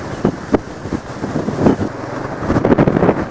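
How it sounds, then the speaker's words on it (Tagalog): Strong wind from Typhoon Kristine buffets the microphone in rough gusts, with a low rumble of traffic underneath and no talking. "ah lakas ng hangin"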